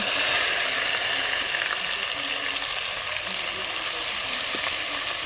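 Ginger paste hits hot oil with well-browned garlic in a pan, giving a steady, close, bright sizzle with faint stirring scrapes and no talk.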